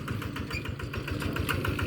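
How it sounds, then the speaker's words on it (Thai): A farm tractor engine runs steadily nearby with a rhythmic mid-pitched chugging and knocking pulse, loud and continuous on a rural morning, with no voices over it. "รถไถมาแล้วพี่น้อง"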